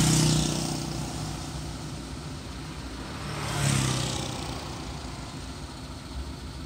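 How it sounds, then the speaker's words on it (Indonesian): Motorcycles and then cars pass in a traffic queue at the Pulau Telo bridge, a steady engine rumble that swells as vehicles go by, with one louder pass midway. "Dari sisi yang berlawanan kita lihat awalnya kendaraan roda 2, setelah itu baru diikuti oleh kendaraan roda 4"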